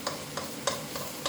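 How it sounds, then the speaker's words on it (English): Vegetable curry being stirred in a cheap thin pan, a spoon scraping the metal in a steady rhythm of about four strokes over a soft sizzle. "Going in for another stir"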